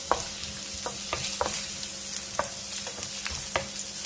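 Ginger, garlic and spring onion whites sauté for restaurant-style chilli chicken with a bright, steady hiss, while a spoon scrapes and taps the pan in repeated short strokes.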